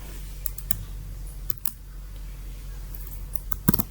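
Someone types on a computer keyboard in R Studio, producing scattered light clicks and taps over a low steady hum, quiet and close.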